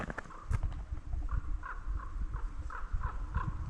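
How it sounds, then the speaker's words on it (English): A crow calls repeatedly in a winter outdoor setting near a brook while tangling with a raptor overhead, giving a series of harsh, fairly distant caws over steady wind and water noise. "That was a crow and a raptor of some sorts battling up there."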